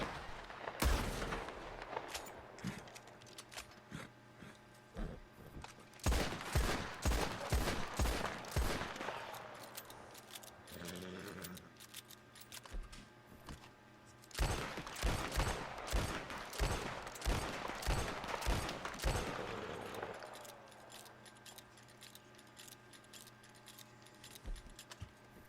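Gunfire in Red Dead Redemption 2 rings out in rapid bursts of repeated shots, loud and close, separated by quieter gaps with a mechanical clink in between.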